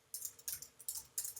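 Computer keyboard typing in four short bursts of rapid, crisp key clicks separated by brief pauses, fairly quiet and close, with no voices.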